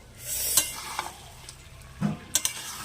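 Meat with potatoes and whole garlic fries in a pot, a soft sizzle broken by a few sharp spoon scrapes and clinks as the mixture is stirred up close.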